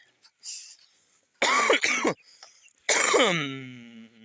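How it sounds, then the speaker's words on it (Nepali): A person with a cold coughs twice in harsh, close bursts, then lets out a drawn-out groaning vocal sound, with a faint breath between. "खोकी लागेछ मलाई"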